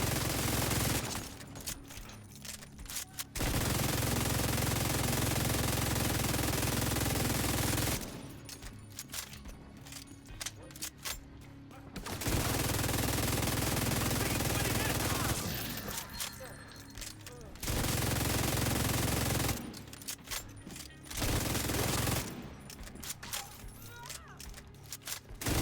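Long rattling bursts of machine gun fire from the Pestilence in the Division 2 video game, several sustained volleys separated by short pauses, loud and close.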